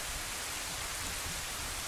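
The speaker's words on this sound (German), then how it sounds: "Regen." Steady, even rain hiss from the video game Zelda Ocarina of Time, a soft continuous wash of drops with no breaks or voices.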